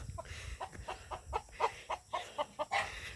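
Short, repeated clucks from several fighting roosters close by, irregular bursts over a low rumbling background.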